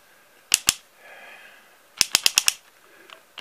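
Torque clutch of a ZITREK Green 12 cordless drill-driver slipping, sharp close clicks: a pair, then a quick burst of five, then one more, over a faint motor whine.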